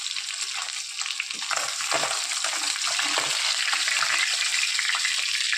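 Pieces of rohu fish fry in hot oil for a home-style Bengali fish curry, giving a steady, loud broadband sizzle throughout, close up with no talking.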